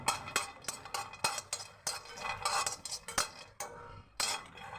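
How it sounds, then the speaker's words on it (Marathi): Peanuts being dry-roasted and stirred in a pan, the spoon scraping and clinking against the metal in irregular, fairly close bursts with no talking. "शेंगदाणे थोडेसे खरपूस भाजून घ्यायचे."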